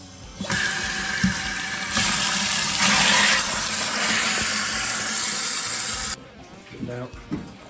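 Water rushes steadily out of household plumbing lines being drained during a bathroom renovation, a loud continuous hiss and gush that starts abruptly, surges midway, then cuts off near the end with faint handling noises after.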